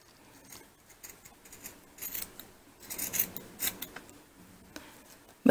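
Scissors cutting fabric for a miniature car seat, producing soft rasping snips that grow busier toward the middle, close and fairly quiet, with a sharper click at the very end.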